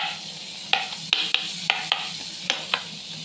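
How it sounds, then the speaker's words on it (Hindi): Cumin seeds tempering in hot butter and ghee for saag give a steady sizzle, broken by about seven sharp crackling pops spread unevenly across the clip. "डाल दिया जीरा, जीरा डाल के थोड़ा पीछे करो भाई, अरे ये पटाखे मारेगा पटाखे"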